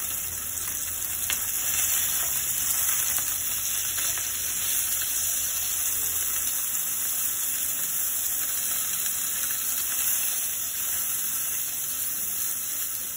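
Nodoguro fish fillets frying in a pan, a steady loud sizzle and hiss of hot oil running continuously and close throughout, with no pauses.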